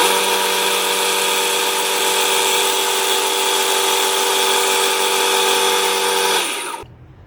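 Wusthof fillet knife ground on an A16 abrasive belt, a loud steady high-pitched whine of the belt grinder with grinding hiss for several seconds, then cutting off as the motor spins down.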